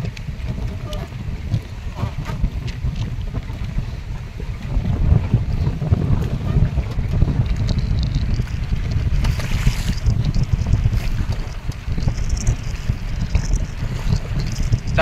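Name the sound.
strong wind and waves on a river boat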